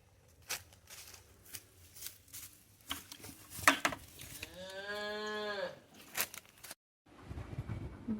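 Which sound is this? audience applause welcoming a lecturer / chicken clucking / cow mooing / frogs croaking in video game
cow mooing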